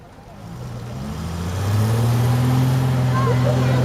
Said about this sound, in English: Just going to give you a demonstration of what a Foden two-stroke sounds like.